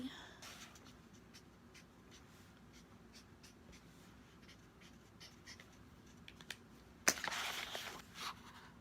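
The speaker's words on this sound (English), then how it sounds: "Let me write her name." A name is written on paper in blue, a soft, close scratching of the tip that runs on and off and ends with a brief, louder rustle of paper.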